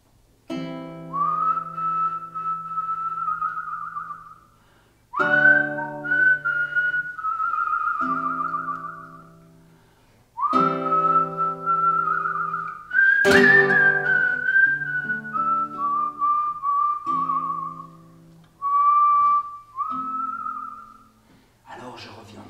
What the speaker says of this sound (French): sifflez au vent ce petit air